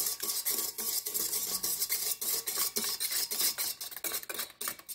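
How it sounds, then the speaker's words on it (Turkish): Eggs and half a glass of sugar being whisked in a bowl, a quick, steady run of clinking and scraping strokes against the bowl, close and clear with no talk. "Şeker eriyinceye kadar çırpıyoruz arkadaşlar"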